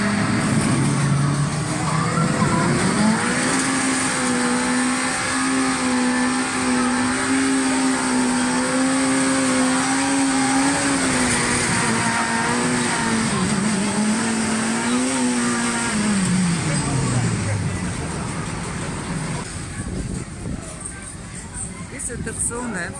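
Motorcycles run on an amusement park riding track where children and adults learn to control the bikes, a steady engine drone rising in pitch and holding before falling away near the end, loud and close with crowd noise behind.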